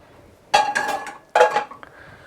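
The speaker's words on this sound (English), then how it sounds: "Take your tomato and basil mix, spoon it in with all the juices" A tomato and basil mix is spooned into a pan of risotto. Two bright metallic scrapes and clinks of a spoon against the pan, each lasting about half a second, are heard close up in a quiet kitchen.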